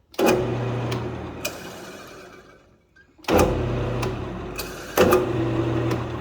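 A new lathe's electric motor runs in bursts with a mechanical whir and rattle, stopping briefly around the middle before starting up again loud and close, with occasional clicks and ticks.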